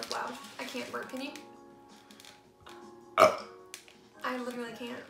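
A loud, short burp bursts out amid casual chatter between two people, with talking before and after it.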